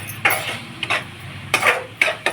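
Spoon stirring ridge gourd curry seasoned with chili powder and turmeric in a pot, giving several close scraping, clinking strokes in an uneven rhythm with no talking.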